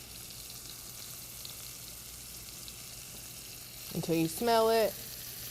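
Chopped onion and garlic fry in a pan for a balsamic veggie pasta, a soft, even sizzle that runs steadily until a voice speaks briefly near the end.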